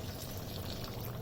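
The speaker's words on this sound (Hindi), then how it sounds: "आधे से भी कम गिलास पानी डाला है मैंने इसमें" Less than half a glass of water pours into chicken masala frying in a pan, a brief, soft, steady splashing hiss close by.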